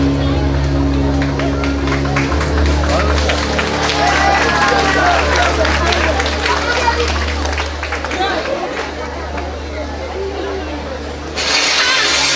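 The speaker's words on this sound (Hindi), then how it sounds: "उच्छ्वसित करताली" Enthusiastic audience applause at an Odisha jatra show: dense, steady clapping from a large crowd with cheering and babble mixed in, sustained loudly throughout and briefly swelling near the end.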